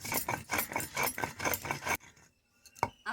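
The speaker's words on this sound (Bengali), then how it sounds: "জিরেটা বেটে নেব জিরেটা বেটে" Cumin is ground on a stone slab in steady, rhythmic rasping strokes for about two seconds. Near silence follows, then a single brief clink.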